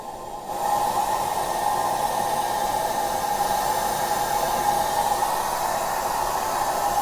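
An American blower on a backyard railroad setup, opened to a half turn, gives a steady loud rushing hiss with a constant airy tone that starts in the first second and holds unchanged throughout.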